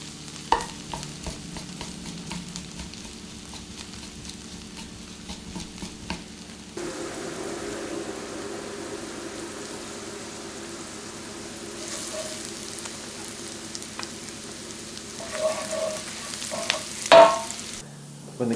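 Leaves fry in a pan, first under a quick patter of crackles, then a smoother, louder steady sizzle, ending with a few stirring scrapes and clatters near the close.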